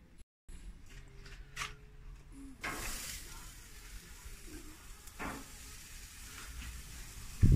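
Vegan steaks sizzle on a grill with a steady, moderate hiss that holds through the clip, broken by a few brief crackles and spits and a louder clatter at the very end.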